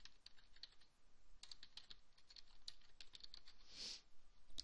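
Computer keyboard typing in quick, uneven bursts of close, crisp key clicks, steady for several seconds with no talking.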